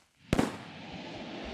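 A firework goes off in the video game Escape the Backrooms: one sharp, loud bang, then a long hissing crackle that holds steady to the end, with no voices.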